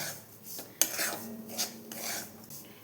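Gram flour (besan) roasting in a pan while a spoon stirs it, producing soft repeated scraping and rubbing strokes with a few metallic clinks, close and without speech.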